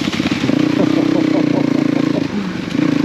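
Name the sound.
Yamaha Ténéré 700 motorcycle engine revving on dirt track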